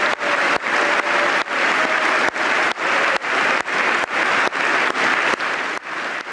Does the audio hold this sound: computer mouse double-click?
no